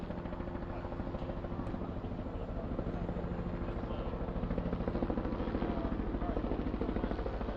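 A helicopter comes in to land at a field beside a press conference on deputies shot while serving a warrant. Its steady, loud rotor thrum runs throughout.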